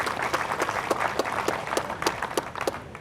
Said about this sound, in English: So one more round of applause for doing the right thing.